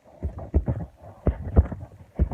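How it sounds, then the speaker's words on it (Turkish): A foley heartbeat is made by tapping on a body, producing paired low thumps in an uneven lub-dub rhythm, close and fairly soft, repeating several times. "Kalp atışı sesini tekrar yapıyorum bunda."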